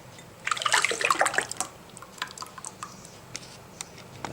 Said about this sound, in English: I pour it into a jar